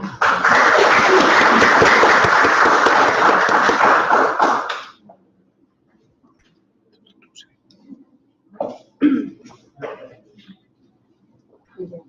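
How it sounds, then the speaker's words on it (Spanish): Audience applause at a medical lecture on brain protection, a dense sustained burst of clapping for about five seconds that stops abruptly, followed by quiet room noise and a few faint scattered sounds. "Un aplauso."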